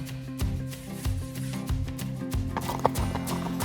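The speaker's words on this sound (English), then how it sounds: "All 3 of my horses are Mustangs." Hooves of Mustang horses clip-clop in a steady walking rhythm over a low rumbling background, with faint neighing mixed in on a ride through the Virginia Highlands.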